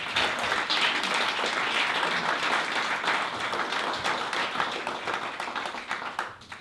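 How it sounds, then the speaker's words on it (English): An audience applauds steadily for a group of honorees at an event, a dense, sustained clapping that holds for several seconds before beginning to thin out at the end. "a big round of applause, please, for all four of them"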